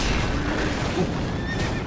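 A horse in the video game Sekiro gives a short, loud whinny over a dense wash of game noise.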